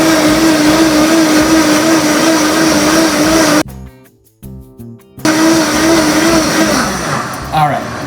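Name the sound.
blender blending cream of asparagus soup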